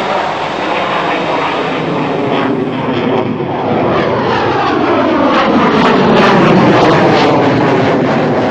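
Loud, steady engine roar of a MiG military jet flying over mountainous terrain, with a sweeping pitch shift as it passes, continuous throughout without any voices.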